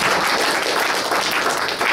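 Steady, dense applause from a church congregation, many hands clapping together at an even level with no pauses and no speech.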